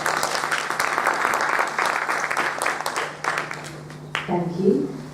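An event audience applauds a host at a Natural Hair Week gathering in Manchester, a sustained burst of many hands clapping that tapers off near the end as a voice starts speaking.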